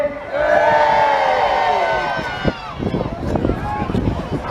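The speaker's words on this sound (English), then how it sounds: "1, big cheer." A big crowd at a seaside air show lets out a loud, sustained cheer that swells and holds, then breaks into scattered whoops and shouts with voices mixed in.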